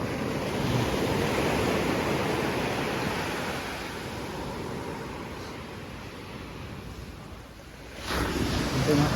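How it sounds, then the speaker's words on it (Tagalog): Strong ocean waves roar in a continuous broadband wash, swelling and easing, with a fresh surge near the end; wind buffets the microphone and no one speaks. "Ang lakas po ng alon mga kababayan."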